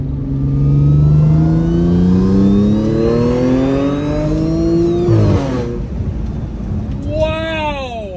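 An Audi S5 engine revs hard on a downshift: a loud rising wail climbs, drops sharply, then a second quick rev blips up, with people talking over it.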